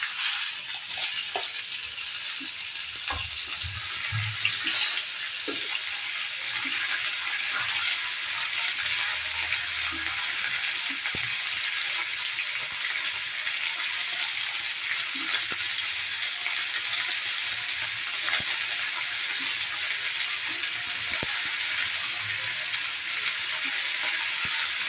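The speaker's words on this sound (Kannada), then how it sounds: "ಈಗ ಹೆಚ್ಚಿಟ್ಟ ಮಾವಿನ ಹಣ್ಣು ಹಾಕ್ತಾ ಇದ್ದೇನೆ." Chopped wild mangoes hit a pan of hot tempering and sizzle continuously, a soft, even crackle with occasional light stirring scrapes and no talking.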